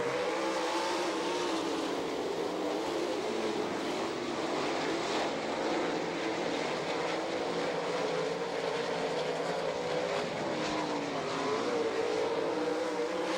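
Sprint cars racing at Attica, Ohio, a continuous dense roar of many engines from a distance, steady and loud throughout with slight rises and falls as the field circulates.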